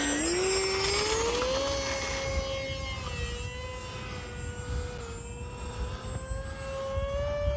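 A small RC airplane's electric motor on a 3S battery whines steadily overhead, its pitch rising then holding high and sustained, with light wind noise throughout and no talking.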